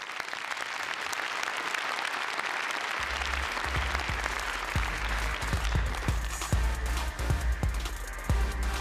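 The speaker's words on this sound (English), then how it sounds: "Ladies and gentlemen, we need some applause for three society finalists" An audience applauds three startup award finalists, with continuous dense clapping at steady moderate loudness, joined partway through by a low rhythmic musical thump and sharper percussive hits beneath the clapping.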